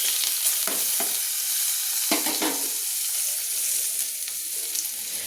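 Chopped garlic and bay leaves frying in a pan, a loud, bright, continuous sizzle broken by several scraping stirs, close and without any talking.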